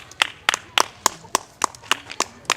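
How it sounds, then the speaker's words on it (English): Sharp, evenly spaced claps ring out about once every third of a second, a crisp rhythmic clapping close by at a lively gathering, each hit distinct above a quiet background. "Clap for your underscore."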